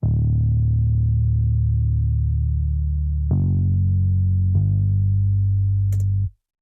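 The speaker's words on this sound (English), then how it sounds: "we had the Logic bass" A sustained synth bass from a stock Logic Pro instrument plays long, deep held notes, with two note changes and then an abrupt cutoff, heard alone and loud.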